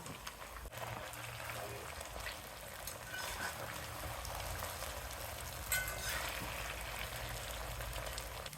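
Small fish frying in oil in a pan for a fish fry curry: a soft, steady sizzle and crackle holding evenly throughout, fairly quiet with a slight surge partway through.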